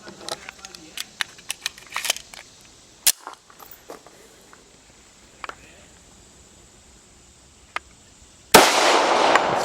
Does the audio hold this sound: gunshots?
yes